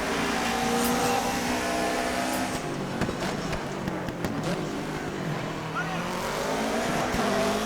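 A Subaru rally car in DiRT 3 roars continuously at high revs, engine note rising and falling through gear changes with bursts of tire and gravel noise, loud and close throughout.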